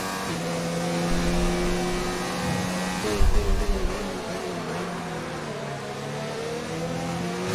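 F1 race cars battling on track in a Spanish Grand Prix racing game, loud sustained engine whine with shifting pitch as cars jostle, a brief burst of rougher noise midway, no voices.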